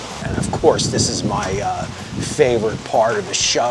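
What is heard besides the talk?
wind and rain outdoors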